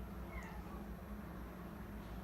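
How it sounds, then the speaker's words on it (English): A house cat meows faintly in the background of a quiet indoor room, with a few soft, brief calls and no talking. "You might be hearing like cat noises in the background."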